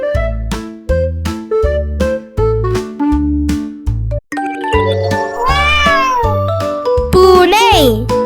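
A pet cat meows several times, rising and falling, over a bouncy children's music track with a thumping beat; the meows come later and sit loud and close in the mix.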